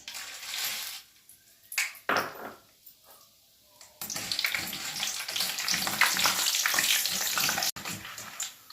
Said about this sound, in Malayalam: നമുക്ക് ആദ്യമേ ഈ പൊരിക്കടലയൊന്ന് വറുത്തെടുക്കാം